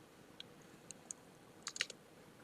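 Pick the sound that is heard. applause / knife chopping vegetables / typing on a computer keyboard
typing on a computer keyboard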